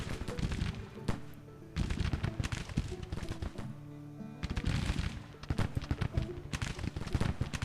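Musket volleys from Bayard's and Sweeney's troops in the Civil War strategy game Grand Tactician, ragged bursts of rifle fire crackling in waves with brief lulls between, loud and close.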